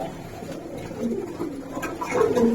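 Pigeons, a prized pair of show birds, coo steadily at close range, soft low murmuring calls repeating over a hum of background noise.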